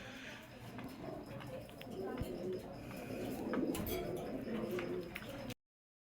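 A male racing pigeon coos softly and repeatedly at a club loft, faint beneath a steady rustle of background noise before an abrupt cutoff.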